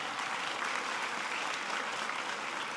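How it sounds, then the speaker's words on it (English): Audience applause at a speech on education and the economy, a continuous, fairly faint wash of many hands clapping with no pause. "That's worth applauding, that you're enjoying learning so much."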